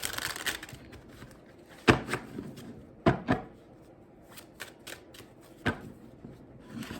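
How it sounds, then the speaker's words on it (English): A deck of tarot cards given a quick shuffle, with soft riffling and several sharp card snaps and taps spaced irregularly, close up and otherwise quiet. "Quick shuffle"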